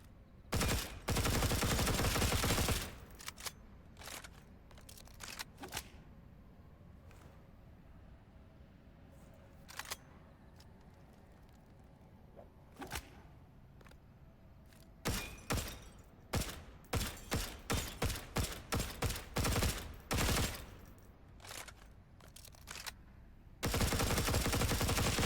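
The 5.56 Chimera Rapid SMG fires in SULFUR as loud sustained automatic bursts at the start and end, with scattered single shots and a quick rhythmic string of shots between quieter stretches.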